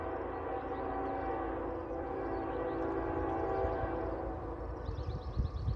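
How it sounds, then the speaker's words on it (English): A southbound CN freight train with GEVO locomotives rumbles toward the Zephyr Road crossing, a steady mid-distance roar with a faint horn-like tone near the end and no talking. "we got a southbound train approaching Zephyr Road right now"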